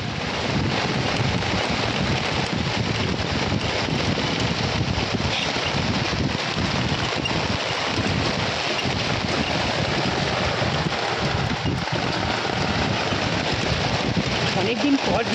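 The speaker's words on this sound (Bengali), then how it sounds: "অনেকদিন পর বৃষ্টি পেলাম, বল ঝমঝম করে।" Heavy rain pours down in a steady, dense roar that stays unbroken and loud throughout, close by and filling the whole scene.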